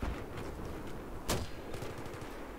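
Gunshots in the video game Battlefield, a muffled rattle of distant fire with one sharp close shot midway, no talk.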